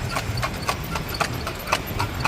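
Horse hooves clip-clop at a steady trot in Luneta Park, a rhythmic series of sharp hoof strikes, moderately close, over a low background rumble with no talk.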